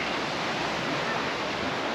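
Bear Creek flows steadily, a dense continuous rush of water filling the whole clip at an even level with no voices.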